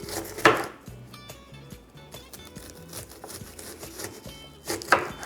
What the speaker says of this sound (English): Let's start with chopping about half an onion.